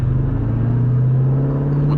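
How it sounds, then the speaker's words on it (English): A 2003-04 Ford Mustang Cobra Terminator engine idles nearby in a steady, loud, low rumble that holds even throughout, with no talk over it. "The car sounds great to me right now"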